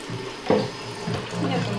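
A tap at a restaurant washroom sink runs water in short spurts, with a brief louder splash near the start, heard close up while people talk quietly in the background.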